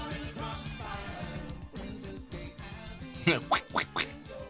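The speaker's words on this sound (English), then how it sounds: "Quack, quack." A duck quacking on a Jethro Tull album recording, several quick nasal quacks near the end over a steady rhythmic band backing.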